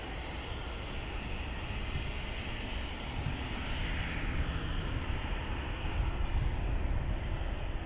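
A Ryanair airliner idles and rumbles at Luton Airport, heard from a distance as a steady broadband engine roar that swells slightly toward the end.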